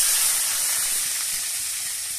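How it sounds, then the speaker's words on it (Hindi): Onions frying in a pan for soybean curry, a steady bright sizzle that holds evenly and fades a little, with no talking. "प्याज फ्राई हो गया"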